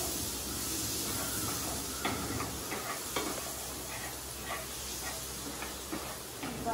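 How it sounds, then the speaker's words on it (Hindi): Butter melting in a pan on a home stove, a faint continuous sizzle with light clicks and stirring taps scattered throughout. "बटर को मेल्ट करेंगे."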